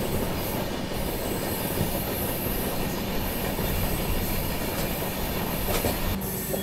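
The Dakshin Express rolls into Bina Junction with a loud, steady rumble of wheels on track, a faint squeal of wheels and light clatter riding over the noise throughout.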